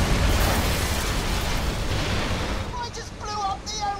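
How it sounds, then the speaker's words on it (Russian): A bridge is blown up in the video game Borderlands: The Pre-Sequel, a loud, rumbling blast that rolls for a couple of seconds before fading, with a few bright synthetic blips at the end. "Я только что взорвал единственный мост."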